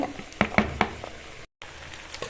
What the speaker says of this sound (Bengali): আমি যে সবজিগুলো সব ঢেলে দিচ্ছি